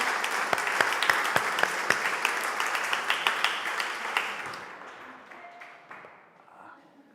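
A church congregation claps for the children in a steady, lively round that gradually fades into quieter scattered claps, with faint voices underneath as it dies away.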